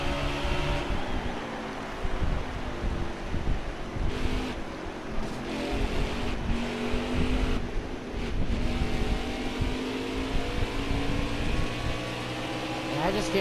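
A race car engine in the NASCAR Heat 4 racing game drones steadily and loudly throughout, its pitch shifting with throttle and gear changes, with a person talking over it.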